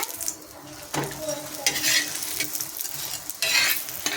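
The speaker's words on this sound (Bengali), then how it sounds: "আর একটু তেল দিয়ে দেবো, দিয়ে ওই পিঠটা আমি ভেজে নেবো।" A potato paratha fries in a little oil with a soft, steady sizzle, broken by occasional scrapes and clinks of a utensil against the pan. Nobody talks.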